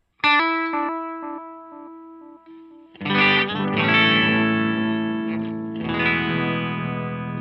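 Electric guitar on the neck pickup played through an analog delay pedal with high feedback, notes repeating in fading echoes with long feedback tails, loud and close with a warm, slightly distorted tone.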